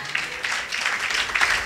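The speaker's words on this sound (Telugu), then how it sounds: "చప్పట్లు కొట్టండి ఇప్పుడు" Brief, dense clapping from a church congregation during a sermon, a steady wash of applause heard close and alone.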